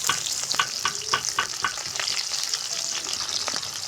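Chopped onion frying in hot oil with dried chili and bay leaf while being stirred, a steady close sizzle broken by repeated scraping strokes of the spoon at a brisk rhythm.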